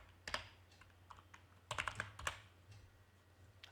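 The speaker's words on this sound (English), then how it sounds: "I am going to type format" A computer keyboard typed on in short bursts, quiet clicking keystrokes in two small clusters, near and faint with a low background hum.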